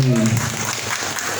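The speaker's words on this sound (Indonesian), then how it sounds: "tepuk tangan dulu dong teman-teman peserta" Applause from a talk show audience in Bandung, Indonesia, steady and moderately loud, with a voice trailing off at the very start.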